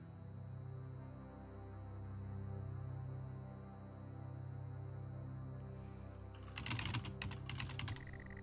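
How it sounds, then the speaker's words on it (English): A burst of quick keyboard clicks in the video game Stories Untold rattles out near the end, following several seconds of steady low electrical hum. "I also like the clicking sounds."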